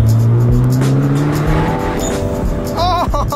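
Mitsubishi Evo X driving, engine droning loud and steady throughout with a rising tone, brief tire squeal or scrape near the end, voices in the background.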